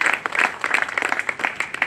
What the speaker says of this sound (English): Let's give them a round of applause for their contributions to this project too.